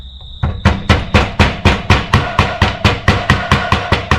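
A hammer taps a seal into a dirt bike wheel hub beside the bearing, about fourteen sharp, evenly spaced metallic knocks in a steady rhythm, close and fairly loud, with no talking.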